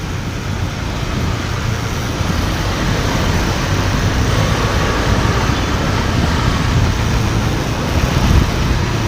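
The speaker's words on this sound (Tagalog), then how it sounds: "Traffic situation for today, afternoon traffic. Bumper to bumper guys." Bumper-to-bumper afternoon road traffic in Mandawi near road construction, a loud, steady rumble of idling and creeping engines with a continuous low roar, no talk.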